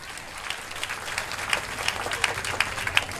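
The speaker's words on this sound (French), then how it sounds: "Frappez bien, acclamez Jésus." A church congregation in Port-de-Paix applauding and cheering at an evangelistic service, a steady wash of many hands clapping with scattered voices, sustained and fairly loud.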